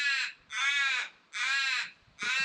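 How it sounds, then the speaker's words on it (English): Three loud, harsh crow caws in a row, evenly spaced with short gaps, close by on a windy coast by the water, with no voices. "Even the crow's shocked"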